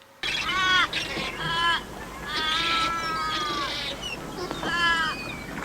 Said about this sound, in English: While the beach is relatively peaceful, the seagulls sound really weird.